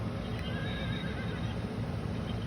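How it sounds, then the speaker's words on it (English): A horse-neigh doorbell fitted on the door of a 5x8 cargo trailer camper conversion plays a recorded whinny, a clear, steady neighing sound that runs continuously throughout. "It's like a horse. It's a horse doorbell, man."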